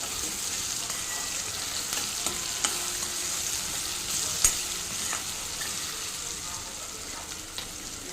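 Onions frying in a pan on lowered heat before okra is added, a continuous hiss of sizzling oil with occasional spoon taps and stirring scrapes, close by and without speech.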